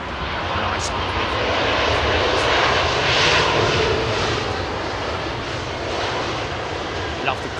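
Lufthansa airliner in its old grey livery at Heathrow on Christmas Day, jet engines giving a steady, fairly loud roar with a hissing whine, and people talking faintly beneath it.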